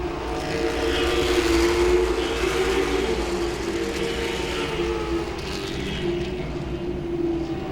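Late model race cars roar around Langley Speedway in a steady, loud, continuous engine drone that swells slightly and then holds, heard from trackside with no commentary over it.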